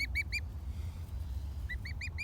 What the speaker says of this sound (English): One account suggests that the dodo had a cry like a gosling.